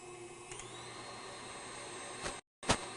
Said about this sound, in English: I've got a cup of butter at room temperature that we're going to blend together.